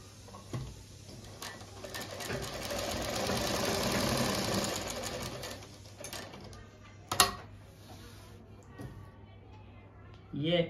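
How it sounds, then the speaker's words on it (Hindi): A sewing machine stitching a pocket onto palazzo trousers, running in a steady, close whirring rattle for several seconds before stopping, followed by a few soft clicks and handling noises. "यहाँ से हमने शुरू की मशीन, यहीं पे ला करके देखिए मैं आपके सामने रोक दूंगा।"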